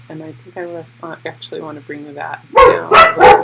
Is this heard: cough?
no